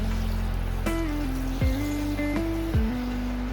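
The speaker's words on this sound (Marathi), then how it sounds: "थंड पाण्याने नॉर्मल थंड पाण्याने हेअर वॉश करायचं" Cold water runs over hair during a hair-spa rinse in a parlour, a steady trickling stream close by, with faint tonal humming and a few splashy shifts.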